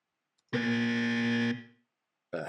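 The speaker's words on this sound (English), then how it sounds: "Is the buzzer working?" A harsh, flat electronic game show buzzer blares once for about a second up close, then a second buzz begins just as the sound cuts off.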